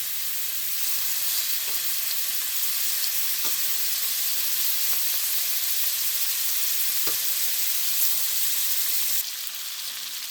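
Shrimp searing over high heat in a pan for a linguine dish, giving a dense, even sizzle that holds for several seconds, broken by occasional faint utensil ticks, with the hiss easing slightly near the end.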